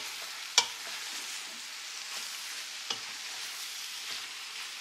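A shrimp dish stirred while cooking gives a steady soft frying hiss, broken by a few sharp clacks of a spoon against the pan.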